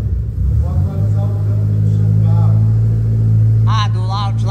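A tuned Volkswagen Jetta TSI, stage 3 with around 350 hp and a 3-inch exhaust, rumbles loudly at close range with a rising roar, while people talk over it.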